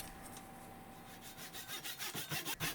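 Hand saw cutting quarter-round wood strips to length for a catamaran build, starting faint and building into a quick run of rasping back-and-forth strokes that grow louder toward the end.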